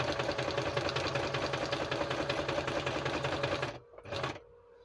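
A sewing machine stitches through a journal card made from book pages in a steady, fast, close mechanical whir. It stops abruptly near the end, followed by a brief shorter burst.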